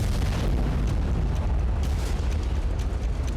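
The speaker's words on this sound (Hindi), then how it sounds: "जबालिया में 7 मई के दोपहर को इजरायल की मिसाइल गिरी और जोरदार धमाका हुआ।" A missile explosion strikes Jabalia refugee camp in Gaza, heard as a loud, sustained, dense roaring rumble with no single sharp onset and no voices.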